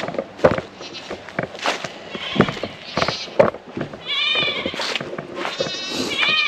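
Goats bleat outdoors on a homestead, giving several wavering cries of varying pitch, the clearest toward the end, amid light rustling and background movement.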